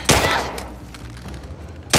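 Gunfire in The Last of Us Part II: a sharp close burst of shots opens, fades into a brief lull, then another loud shot cuts in at the end.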